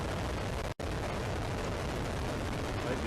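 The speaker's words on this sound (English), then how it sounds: "liftoff of the United Launch Alliance Delta IV Heavy rocket with NROL 71" Delta IV Heavy rocket lifting off with the NROL-71 payload, a loud, continuous broadband roar that holds steady for several seconds, with one brief dropout near the start.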